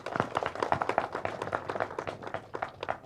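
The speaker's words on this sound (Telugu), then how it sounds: "ఒకసారి గట్టిగా చప్పట్లు కొట్టాలి" An audience at a movie teaser launch claps, a dense run of quick overlapping handclaps, moderately close and fairly even, with no talk over it.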